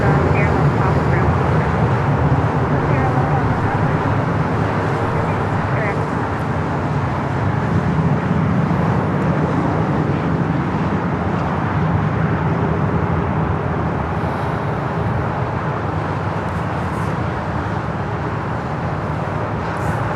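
Aircraft at Newark airport during a winter snowstorm, a steady broad roar of jet engines and ground traffic rumble filling the whole stretch without letup, with a voice talking over it at times.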